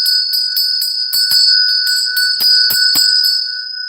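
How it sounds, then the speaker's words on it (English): A small ritual bell rung by hand at a winter solstice pagan ceremony, struck repeatedly in quick succession with a bright, sustained, overlapping ring, close and loud with no talk. "So it says ring the bell 3 times."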